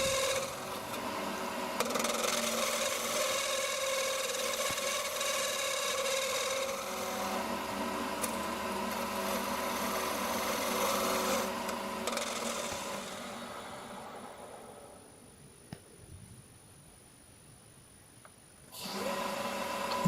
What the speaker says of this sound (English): Use the old carbide to take out the chunk of wood there.